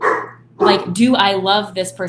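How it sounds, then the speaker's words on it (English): A dog barks in the background, a couple of short woofs and yips mixed in with a nearby person talking over them. "That's my dog in the background."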